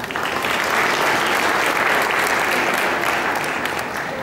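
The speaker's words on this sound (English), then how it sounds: "Please join me to give them applause." A large audience applauds the sponsors of a formal event, its clapping loud, dense and steady throughout with no voices breaking through.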